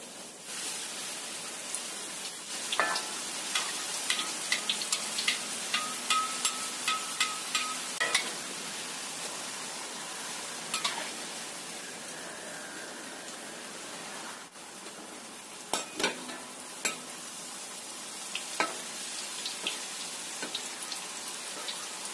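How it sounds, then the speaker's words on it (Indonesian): Krupuk crackers fry in hot oil with a continuous close, hissing sizzle, broken by frequent crackling pops and occasional stirring clinks, with no talking. "Kita goreng yang selanjutnya."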